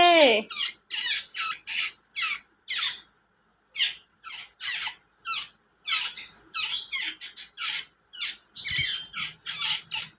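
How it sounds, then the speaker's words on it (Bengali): Hungry birds with beaks wide open, begging for food: a rapid, nearly unbroken series of loud, close, shrill squawks, pausing only briefly now and then. "দেখো পাখিগুলো খাওয়ার জন্য কি করছে, হাঁ করছে"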